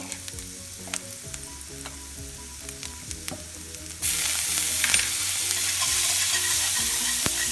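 Chopped jalapeños and a little garlic sizzle in hot bacon fat in a pan, a soft crackle that jumps to a loud, steady, close frying hiss halfway through.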